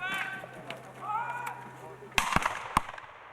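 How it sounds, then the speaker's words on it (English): Mortar fire in a battle reenactment: a couple of sharp, loud bangs burst out near the end after a stretch of faint background, while voices are heard throughout. "the American Armed Forces are now covering the area with their own mortar fire"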